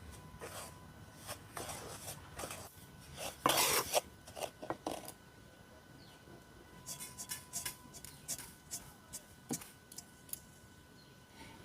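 A spoon scrapes and rasps around a pan as semolina with cumin is lightly roasted, giving irregular bursts of scraping and clinks with quiet gaps between, a voice speaking now and then.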